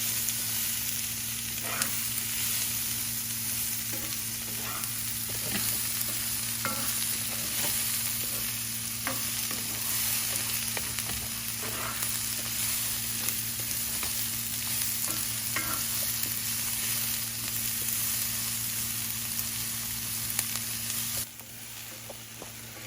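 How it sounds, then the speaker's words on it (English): Onions, green bell pepper and portobello mushrooms stir-fry over medium-high heat for Philly cheesesteaks, with a constant loud sizzle and frequent clicks of a utensil stirring through the pan, behind a steady background hum. "So just start mixing around. Keep mixing until your onions are golden brown."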